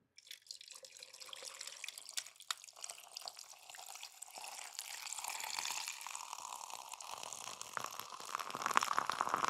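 White Monster energy drink is poured into a glass, a soft, continuous fizzing and trickling pour that grows gradually louder over several seconds, quiet and close with no voices.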